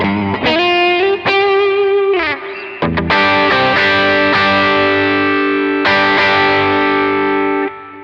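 A Gibson Murphy Lab 335 electric guitar in the middle pickup position plays through an ODR-1 overdrive pedal, with bent single notes followed by sustained distorted chords ringing loud and close with clear string separation.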